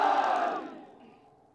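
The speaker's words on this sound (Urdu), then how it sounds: "آخر میں میرے ساتھ مل کے 3-4 نعرے لگا دو" A political rally crowd in Gilgit-Baltistan shouts a loud chant in unison that swells at first and then fades into a lingering roar, with no separate talking.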